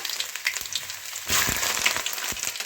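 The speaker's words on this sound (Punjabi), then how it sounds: "ਤੇਲ ਸਾਡਾ ਸੜ ਚੁੱਕਾ ਹੈ ਬਿਲਕੁਲ ਹੁਣ ਸਭ ਤੋਂ ਪਹਿਲਾਂ ਅਸੀਂ ਪਾਵਾਂਗੇ ਅਦਰਕ" Ginger frying in hot oil for baingan bharta, a steady close sizzle that grows denser and louder about halfway through, with soft stirring taps and no talk.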